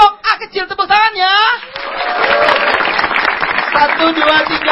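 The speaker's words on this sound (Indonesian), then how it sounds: "kita berikutnya untuk kelompok A kecil, tepuk tangannya" Applause from a stand-up comedy audience for a group on stage, dense steady clapping rising after a brief stretch of speech at the start and holding fairly loud to the end.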